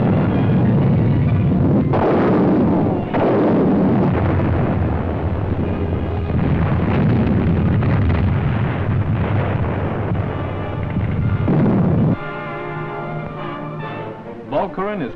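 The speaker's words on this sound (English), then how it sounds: "From positions across the Scheldt, Beveland is shelled by our guns." Allied guns shell Beveland from positions across the Scheldt in 1944 wartime newsreel footage, heavy booming rumbles and blasts rolling under a narrator's voice, with the low, muffled quality of old archival sound.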